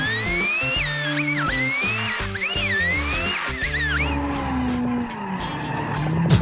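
A cheap Honda car skidding and refusing to turn in the BeamNG Drive driving game: a loud, sustained engine drone with wavering tire squeal, the engine note changing as the skid goes on, no voices.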